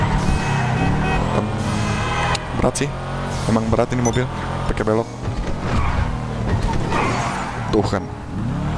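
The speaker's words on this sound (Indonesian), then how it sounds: "Bagus loh suara knalpotnya. Ada suara gasnya juga." Car in the game GTA 5 Online with a throaty exhaust as the engine revs hard through repeated rising and falling bursts, loud and continuous, while someone talks over it.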